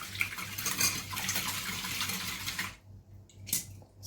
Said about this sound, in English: So I'm mixing them now.